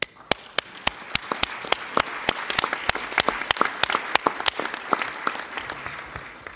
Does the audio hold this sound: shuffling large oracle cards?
no